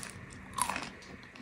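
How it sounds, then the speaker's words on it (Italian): A single crisp bite into crunchy homemade vegan croquettes made from red lentils, a short crackling crunch up close and fairly quiet, with no talking. "Sentite quanto sono croccanti."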